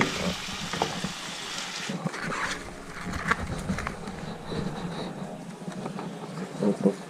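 Lemongrass stir-fried in a pan with chopped aromatics for a Thai-style larb, giving a steady close sizzle and crackle with scraping stirs throughout, a few louder clatters near the end.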